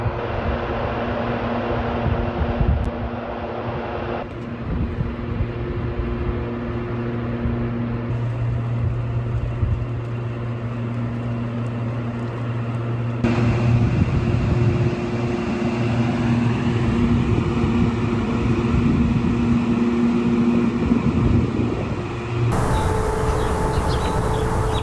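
A high-pitched mechanical drone from a soundproofed data center in the rural Midwest, heard from nearby homes: a steady, continuous hum with sustained tones that persists throughout without letting up, and no voices.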